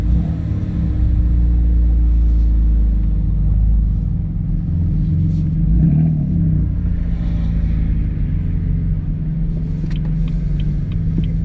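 A BMW M4 engine drives along with a loud, steady low rumble that rises and eases slightly, with no voices present.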